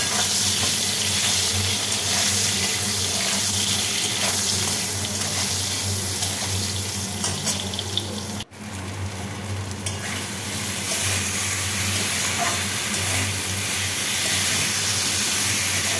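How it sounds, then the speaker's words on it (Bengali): Eggplant frying in a generous amount of hot oil after potatoes, giving a loud, steady, close sizzle with light stirring that runs the whole time, broken by one brief dropout midway. "এবার আলু ভাজা হয়ে আলুটাকে তুলে নিয়ে এরপর বেগুন ভাজছি"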